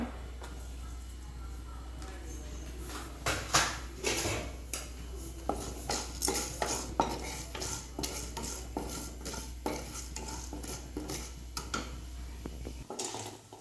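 A spoon stirs urad dal, chana dal and cumin frying in a pan, making light scraping clinks and taps that come irregularly over a steady low hum, faint overall.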